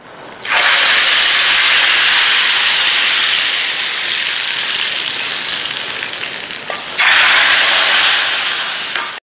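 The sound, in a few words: spices sizzling in hot oil for tadka tempering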